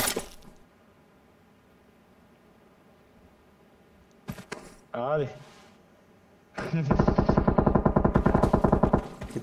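BGMI/PUBG mobile battle royale gunfire: a brief burst of shots, then a long rapid automatic volley of sharp, loud cracks in quick rhythm, with a player talking and quieter game sounds before.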